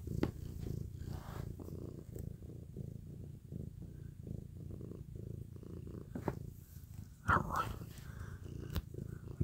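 A house cat purrs steadily and close up in a steady low rumbling rhythm, while a person talks softly over it.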